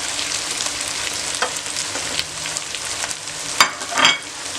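Capsicum and green chillies fry in a pan for Dal Karahi, a dense continuous sizzle with faint scraping. Louder spoon clatters come near the end.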